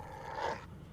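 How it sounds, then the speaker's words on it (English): A dog whines in a short, strained rising whimper that peaks then fades, close and fairly loud against low background noise, with a brief higher sound at the very end. "The dog whines."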